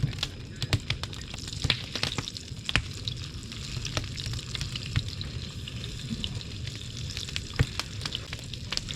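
Fish fries in hot oil over an outdoor fire at South Point, giving a continuous close sizzle with scattered sharp crackles and pops throughout, with no talk.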